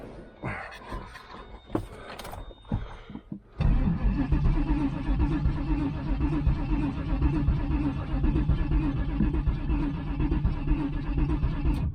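A 1996 Pontiac Trans Am engine with no spark cranks without catching. A few clicks and scrapes come first, then the starter grinds on in a loud, steady, rhythmic churn that never fires.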